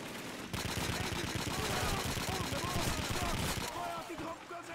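Sustained machine-gun and rifle fire rattles in dense rapid bursts during a Call of Duty 2 battle, loud and close, with soldiers' voices shouting faintly underneath.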